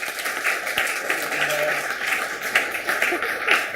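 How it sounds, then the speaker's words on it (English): A Creative Mornings audience gives a round of applause for a man named Jim, steady dense clapping with a few sharper claps, held at an even level from start to finish. "So just give Jim a round of applause for me."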